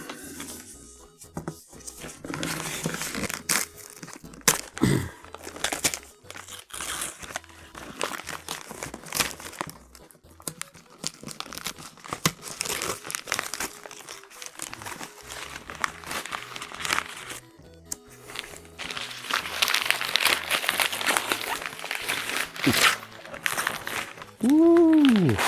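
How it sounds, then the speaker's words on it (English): Wrapping paper on a Christmas present crinkling, crumpling and tearing open in a long run of close, irregular rustles, with a person speaking over parts of it. "I paid quite a bit for this wrapping paper, so I'm a little hesitant to rip this open"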